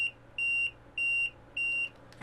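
DSD vigilance alarm in the cab of a Class 465/9 train in Train Sim World 2, a pure electronic tone beeping four times in an even on-off rhythm, clear and alone over a low cab hum.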